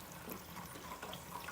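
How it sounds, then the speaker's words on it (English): Red cooking wine for beef pours into a pot in a home kitchen, a continuous liquid splash and trickle lasting over a second, close and steady with no voices. "I'm going to pour some wine in here."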